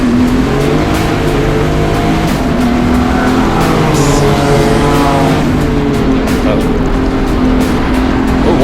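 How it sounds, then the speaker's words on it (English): A BMW E36 race car engine howls on a racing circuit during a race, loud and steady with rising and falling pitch as it passes, while a commentator talks over it throughout. "Behind Bernard, we've got Troy Cochran in that awesome sounding BMW E36"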